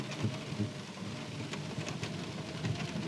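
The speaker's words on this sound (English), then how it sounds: "And it is pouring" Heavy wind-driven rain pouring steadily on an off-road ride, a dense continuous wash with occasional louder gusts, no voices.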